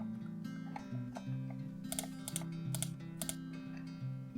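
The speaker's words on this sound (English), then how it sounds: "click, click, click, click." Light computer clicks tick by in a quick series of four or five taps while roles are set up on a Palo Alto firewall, faint over a steady electronic hum.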